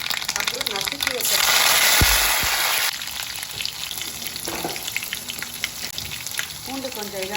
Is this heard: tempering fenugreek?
yes